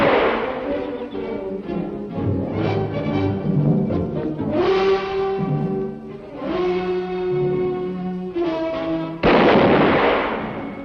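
A gunshot rings out in a western movie shootout, a heavy boom over a dense dramatic music score, with a sharp loud blast near the end.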